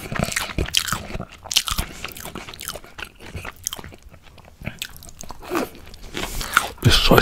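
Close, crisp biting and crunchy chewing of salmon and shrimp sushi rolls, with repeated moist mouth sounds and occasional louder bites, no talking.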